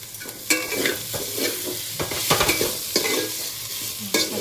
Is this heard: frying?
yes